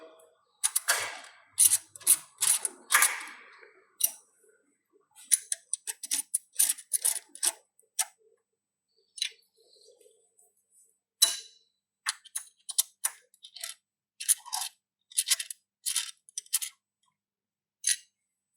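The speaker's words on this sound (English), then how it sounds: "now we can tighten the pedestal down in place" Screws are tightened on the pedestal of a GDS electromechanical dynamic cyclic simple shear device: sharp intermittent metallic clicks and ratcheting ticks come in short bursts with quiet pauses between them, close by, with no talking.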